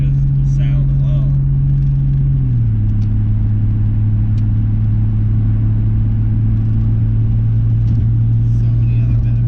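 Toyota Supra turbo engine on a street run, a loud steady droning tone that drops in pitch partway through as the car shifts, with heavy rumble and voices talking over it.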